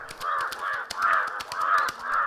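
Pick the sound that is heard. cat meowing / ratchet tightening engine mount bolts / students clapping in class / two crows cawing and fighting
two crows cawing and fighting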